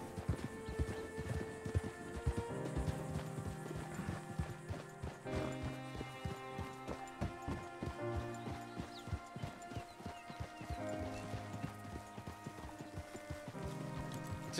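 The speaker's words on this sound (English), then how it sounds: "I have nothing to give this poor horse." Hooves of a horse clip-clop steadily at a walking pace in Red Dead Redemption 2, loud and close, with a continuous rhythmic pattern and a faint neigh among ambient game sounds.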